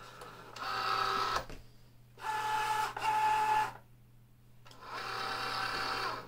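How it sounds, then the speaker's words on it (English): A vinyl cutting machine feeds the material in with three whirring, tonal motor bursts of a second or two each, separated by brief pauses, close and moderately quiet. "You can just roll it straight in the machine."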